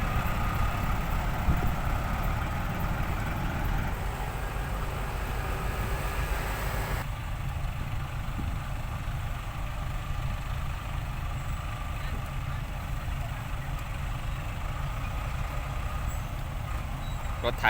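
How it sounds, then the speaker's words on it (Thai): Tractor engine running at a muddy work site where backhoes free a stuck dump truck, a steady low diesel rumble throughout, fairly close, with faint voices now and then. "รถไถมาแล้ว"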